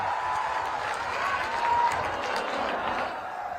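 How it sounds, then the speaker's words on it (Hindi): Crowd applause at an outdoor political rally in Sikta, Bihar, a steady wash of clapping and crowd noise sustained evenly over several seconds, moderately loud with no clear speech on top. "जोर से ताली बजाइए जरा"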